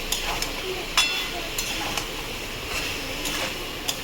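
Boiled soybeans are stir-fried in spice masala in a pan: a steady sizzle with repeated sharp spatula scrapes and clinks against the metal, close by and fairly loud.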